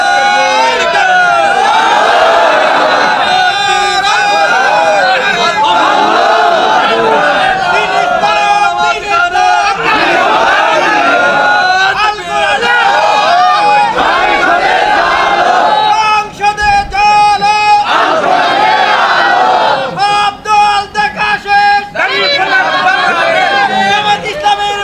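A large crowd at a religious sermon gathering chants slogans in loud, rhythmic unison, voices surging and repeating in call-and-response waves with little pause.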